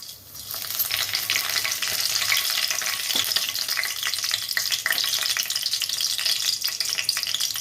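Spices frying in hot oil on a stovetop for a tempering, the base for a masala stuffed brinjal curry; a steady, loud, close crackling sizzle runs the whole time with no one speaking.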